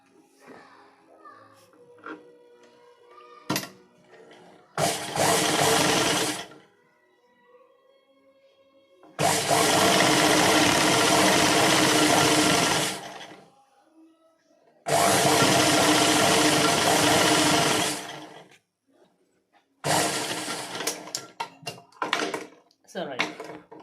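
A sewing machine stitches a folded strip of blouse fabric, running in four loud, sustained motor bursts separated by pauses filled with faint handling noises.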